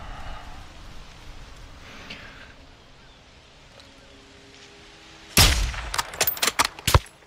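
Sniper rifle shots in the video game Call of Duty: Modern Warfare II, a quiet ambient stretch followed by a sharp loud report and then several quick, clipped shots close together near the end.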